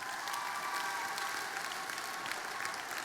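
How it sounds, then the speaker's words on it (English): A crowd at a young-farmer grand final claps steadily, a dense even patter of applause heard at moderate distance and fairly faint, with no voices over it. "What about a round of applause for all of them?"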